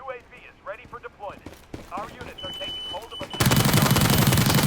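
M416 rifle fire in an online shooter game: rapid automatic bursts close up, with excited voices talking over much of the clip before a loud, dense final stretch.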